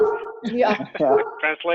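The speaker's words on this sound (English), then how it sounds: "Sorry, that's my dog." A pet dog whimpers and howls close to the microphone during an online board of education meeting, its whining cries interleaved with brief spoken words.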